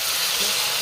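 Ginger, garlic and onion paste hits hot oil in a pan while cooking pomfret in spicy oil gravy, giving a loud, steady broadband sizzle and hiss that fills the short moment without pause.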